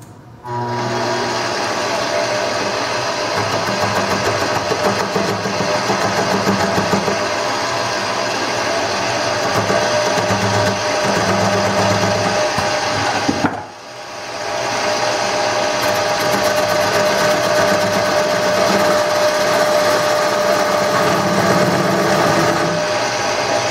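A wood lathe turning a tool handle spins with a steady high whine and buzzing hum, cutting out briefly near the middle before spinning back up to the same constant drone, nobody talking.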